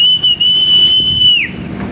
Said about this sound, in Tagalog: Hindi sila sanay sa pito.